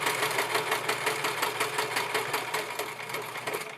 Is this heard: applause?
no